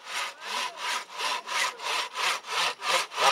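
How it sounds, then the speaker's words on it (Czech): Hand saw cutting through the wood of a maypole being felled, about nine regular rasping strokes back and forth, close and clear with no talk. "Všichni budou řezat, nebojte se."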